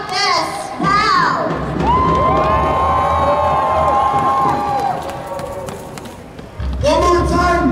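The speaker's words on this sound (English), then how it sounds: "One more time, please give her a warm round of applause." A crowd at a Toronto rally for Palestine cheers and shouts loudly, high voices of children among them, with a steady wash of noise and thuds, easing briefly before swelling again.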